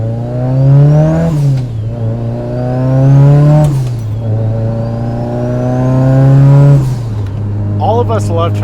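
An 800whp Subaru STI fitted with a T51R turbo revs loudly and close up, rising and falling through three rev cycles over a rough idle, with a whistling whine on each climb.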